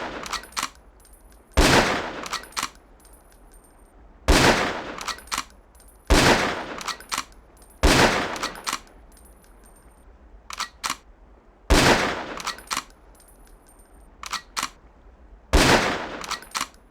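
Loud, sharp sniper rifle shots fired at long-range training targets in Ghost Recon, about eight single cracks spaced a second or two apart, each with a brief tail and quiet gaps between, with no talk.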